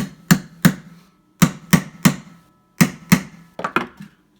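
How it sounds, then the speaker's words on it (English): A hammer tapping a 1/8 inch punch against a pin in a Smith & Wesson M&P pistol frame, giving about eleven sharp, close metallic taps in small clusters, some in pairs, with short silences between. "It runs an 1/8 inch punch, and they tend to be a little bit stiffer in the M&P for some reason. So we'll give that a quick tap."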